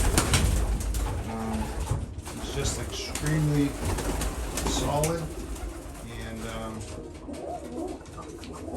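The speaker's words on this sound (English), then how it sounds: "It's the biggest, strongest racing pigeon that I have." A large, strong racing pigeon coos in low, repeated calls close by, while someone talks over and between the coos.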